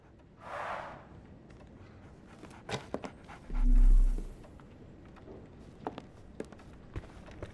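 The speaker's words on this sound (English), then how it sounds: "So, Barnes has a dog now. Who's a good boy?" Dog panting in the video game Sherlock Holmes The Awakened, short soft breathy bursts near the start and a louder huff midway, with faint footsteps and small clicks in a quiet scene.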